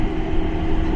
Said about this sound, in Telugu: ఎయిర్పోర్ట్లోనే ట్రైన్ ఉంటుంది.